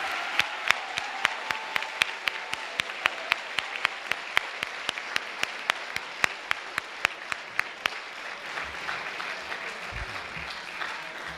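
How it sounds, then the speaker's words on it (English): An audience applauds at a school spring orchestra concert, dense steady clapping with sharp individual claps close by, sustained for several seconds before thinning out near the end. "I ask that you please hold your applause to the end."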